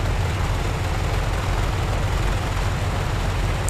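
A Republic P-47 Thunderbolt engine, warmed up and running in a flight simulator, gives off a steady, loud, continuous low drone with a broadband rumble that holds even throughout, with no talk over it.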